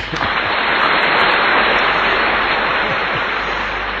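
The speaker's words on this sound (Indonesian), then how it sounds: "Tepuk tangan lagi." An audience applauds in a dense, steady wash of clapping. It is loud and continuous for the whole stretch, with no gaps.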